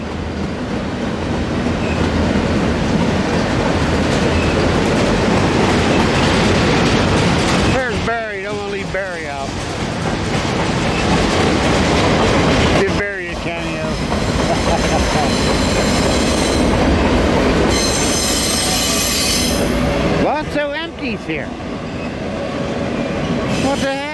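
Intermodal freight train passing under a road bridge, a loud continuous roar of rolling cars with rhythmic wheel clatter and squealing flanges lasting throughout, with people talking over it.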